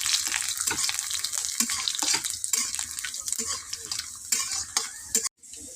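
Mustard seeds fry in hot oil with a steady, close hiss and crackle. A spoon scrapes and stirs the pan throughout, with no talking.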